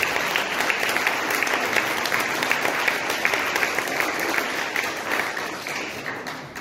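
A crowd at a poetry competition award ceremony claps warmly in a dense, sustained burst of applause that fades slightly toward the end, with no one speaking over it.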